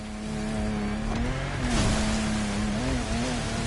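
In The Crew Motorfest, the Peugeot 3008 DKR's V6 bi-turbo engine holds a sustained loud drone with its pitch rising and wavering as it revs, heard alone and close.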